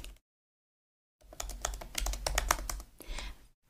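Rapid typing on a computer keyboard, a quick run of close, crisp key clicks after a brief silence, with no voices.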